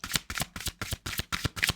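Playing cards are riffle-shuffled close up, seven quick crisp bursts in a steady rhythm.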